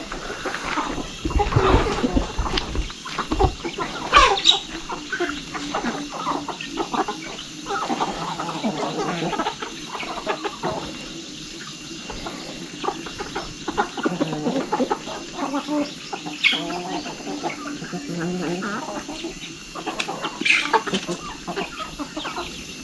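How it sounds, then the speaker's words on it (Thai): Chickens clucking steadily around a rural home among the Mlabri people in Laos, a busy, continuous flock chorus with scattered louder calls, some close and some farther off. "ไก่ก็มีตัวบุตรเพิ่มนะเนี่ยตัวนอนรุ่นเป็นรุ่นไป"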